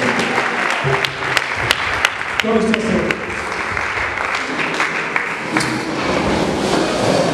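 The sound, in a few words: congregation applause for the word of the Lord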